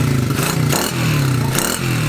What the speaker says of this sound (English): It seems to run a lot better and it actually idles now